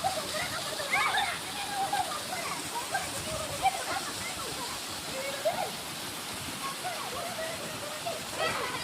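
Cherkota waterfall at Kashipur pours in a steady broad hiss of falling water, with voices chattering over it and occasional louder splashy bursts.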